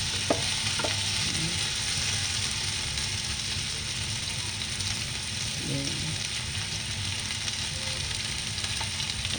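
Garlic sautéing in a pan, alongside onions, as a base for pork humba with pineapple: a steady, dense sizzle with faint utensil scrapes and clinks near the start, continuous and close throughout.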